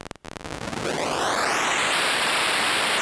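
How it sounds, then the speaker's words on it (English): Digital noise from the Lagrange granular synth opens with a few sputtering crackles, then swells into a dense, loud hiss whose upper edge sweeps steadily upward before holding as a bright, even wash. "A digital noise."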